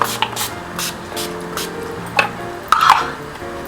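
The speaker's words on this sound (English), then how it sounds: "so I'm just going to spray my face" A few quick hissing bursts of makeup setting spray sprayed onto a face, close and short, spaced apart over a faint background hum.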